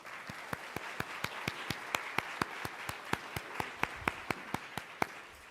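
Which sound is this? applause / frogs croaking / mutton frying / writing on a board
applause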